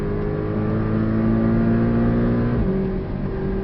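A Porsche Cayman 718 S on the Portimao circuit accelerates hard, its engine note climbing steadily, then stepping at a gear change and pulling on, loud and close throughout.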